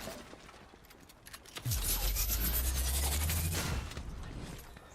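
A submachine gun in Fortnite fires a sustained burst of rapid shots over a deep rumbling boom, after sparse quieter clicks and taps, with the gunfire staying loud for a couple of seconds.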